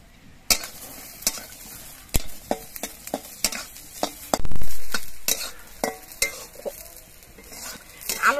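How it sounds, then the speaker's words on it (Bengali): Garlic cloves and green chillies fry in a little leftover oil in a wok, a soft sizzle broken by sharp, irregular scrapes and clinks of a spatula stirring against the metal, with no talking. "লঙ্কার সঙ্গে কিন্তু এই রসুনের কোয়াগুলো ভেজে নিচ্ছি।"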